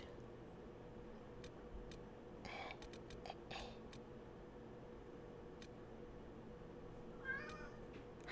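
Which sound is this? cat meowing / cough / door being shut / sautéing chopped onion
cat meowing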